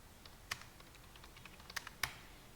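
Sparse keystrokes on a computer keyboard while typing out a Kaplan-Meier estimate formula: irregular, close clicks with a few sharper taps and quiet gaps between them, no voice.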